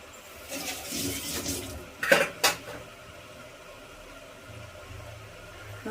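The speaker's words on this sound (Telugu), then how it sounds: "మూత పెట్టేసుకుందాం." A metal lid is set on a pan cooking a ridge gourd fry, making a couple of sharp clanks and rattles in the middle, surrounded by quiet kitchen shuffling and a faint low hum.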